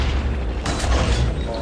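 Explosions boom through a Minecraft game, a loud, dense rumble with a sharper burst partway through, heard close and without speech.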